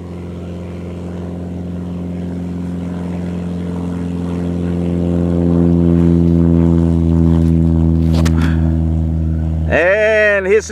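A small plane makes its first solo takeoff at full power, the propeller engine droning steadily and swelling louder as it accelerates, with a voice speaking briefly near the end.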